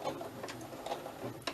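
A sewing machine stitching scrap fabric butterflies, a brief, quiet run of rapid rhythmic needle clatter.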